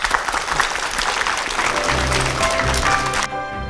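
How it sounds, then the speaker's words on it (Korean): A studio audience at a televised lecture on Roman architecture claps warmly before the talk begins, a loud, full round of applause that cuts off sharply near the end. "오늘도 흥미로운 강연 힘찬 박수로 청해 듣겠습니다"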